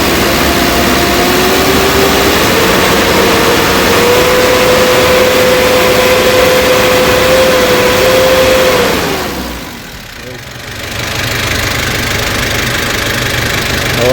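A Kia K2700 diesel engine runs rough and low on power with the motor shaking, a loud, steady close-up drone that dips briefly before settling back to a constant run.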